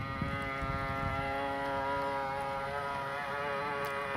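An RC model Bristol Bay boat powered by a 550 silver-can electric motor runs steadily, giving off a continuous high-pitched whine with layered harmonic tones and a faint watery rumble beneath, close by and alone.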